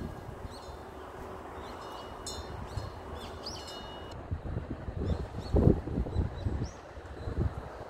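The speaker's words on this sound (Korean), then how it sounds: "새 지저귀는 소리" Small birds chirp in spring at a mountain temple, Bonggokam on Banryongsan. The short, high tweets come in scattered bursts at a moderate distance over wind noise and low rumbling.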